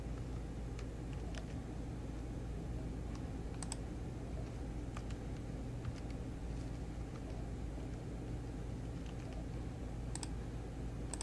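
Soft, scattered clicks of typing on a computer keyboard, irregular keystrokes over a steady low hum, with no talking.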